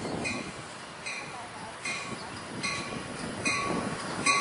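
A train rolls through Oceanside Transit Center, a faint rumble with rail screeches and clicks recurring, heard at moderate distance.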